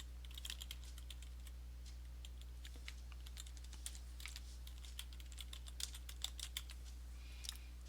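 Quiet, close computer keyboard typing while an email address is entered, a steady run of light key clicks over a low hum.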